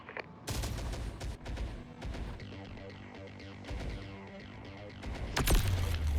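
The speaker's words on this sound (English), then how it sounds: "He just set off an EMP charge." An EMP charge set off in the Terminator Dark Fate video game erupts in a dense burst of explosive cracks and rattling blasts, sustained and booming, with a heavy low-end swell at the close.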